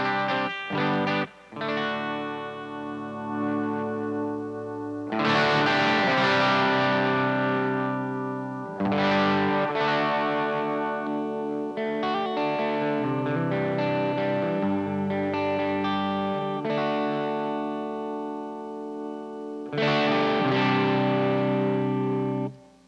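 An electric guitar plays through the warm vintage channel of a Bluguitar Amp 1, giving a distorted, chorus-tinged rhythm. Sustained chords ring out and are separated by short pauses. The tone is loud and upfront with no talking.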